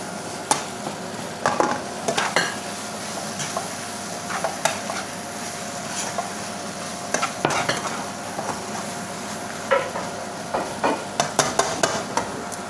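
Food is stirred briskly in a sizzling wok, with repeated metallic scrapes and clatters of the utensil over a continuous frying hiss.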